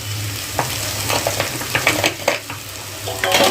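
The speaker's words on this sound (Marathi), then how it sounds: "हे मसाले चांगले तेलामध्ये असे फ्राय करून घ्यायचे" Ground spices, including turmeric and cumin powder, sizzle in hot oil in a pan, with a soft steady crackle and intermittent scraping stirs, close and alone without any talk.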